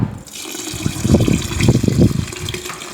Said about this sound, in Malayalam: ഇനി നമുക്കിതിനകത്തേക്ക് തിളപ്പിച്ചാർച്ച് വെച്ചിരിക്കുന്ന വെള്ളം ഒഴിച്ചു കൊടുക്കാം.